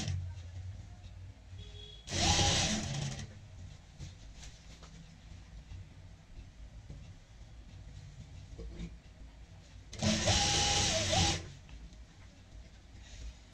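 A sewing machine stitches petticoat fabric onto a saree in two separate runs, each a loud, close, rapid mechanical rattle lasting about a second, separated by long quieter gaps of handling noise.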